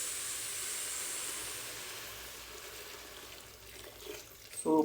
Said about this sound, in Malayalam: പാകത്തിലുള്ള വെള്ളം ഒഴിക്കാം.